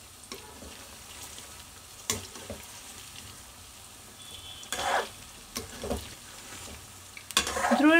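Cauliflower manchurian pieces sizzle in hot oil in a pan, with a steady frying hiss broken by several clinks and scrapes as the pieces are stirred and flipped, ending in a louder clatter.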